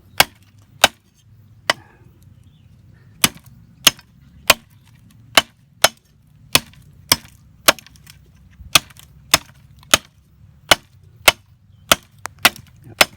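An old leaf-spring knife, made from a jeep's spring steel, chops repeatedly into wood over a concrete base. About twenty sharp, loud, separate thwacks land at a steady, slightly quickening pace, with low rumble between them.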